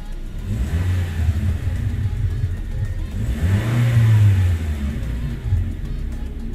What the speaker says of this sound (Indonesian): kita dengarkan bagaimana bunyi mesin 4 silinder dengan kapasitas 1500 cc pada Toyota Rush ini